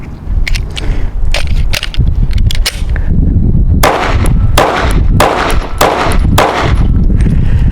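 A Mossberg MC1SC pistol fires a fast, uneven string of about a dozen loud, sharp shots at close range, with short gaps between clusters and no talking.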